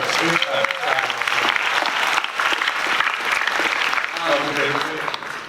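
San Diego Comic Con 2022 Walking Dead panel audience clapping, a dense sustained crowd applause filling the hall, with voices and cheers mixed in throughout.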